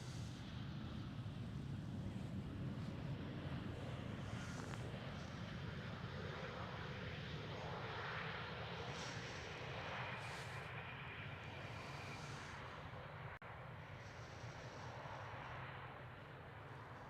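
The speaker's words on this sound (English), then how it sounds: "KLM City Hopper E190." A KLM Cityhopper Embraer E190 jet at Amsterdam Schiphol produces a sustained, fairly distant engine roar that rises and fades slightly over the long stretch, with no voices over it.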